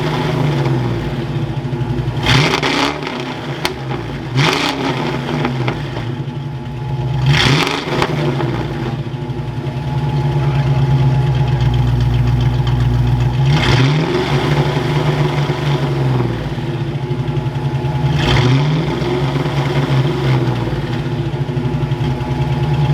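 A Ford Foxbody car engine idling as it warms up after sitting for a while, unable to rev out; a steady low rumble broken by several sharp revving surges close to the microphone.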